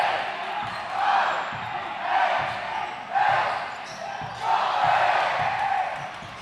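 Crowd noise at a boys' high school basketball game, Hilton Head Christian at Hilton Head Prep, swelling in several loud waves of cheering and murmur with faint ball bounces underneath, heard from within the gym.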